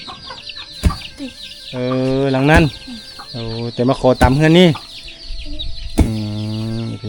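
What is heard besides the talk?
chickens clucking in a mountain village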